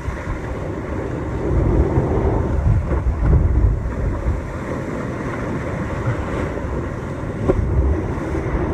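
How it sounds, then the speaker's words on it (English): Ocean surf and strong wind at a kitesurfing beach in Juno Beach, Florida, a steady roar of waves with gusty buffeting on the microphone that swells around the middle and again near the end, no talk. "All right, the waves are starting to pick up."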